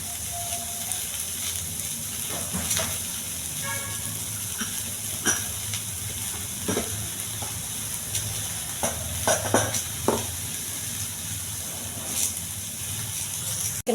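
Chopped onions fry with a steady sizzle in a pan, broken by scattered scrapes and taps of a spoon stirring them, close and alone with no talk.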